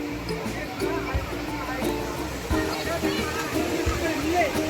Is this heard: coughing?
no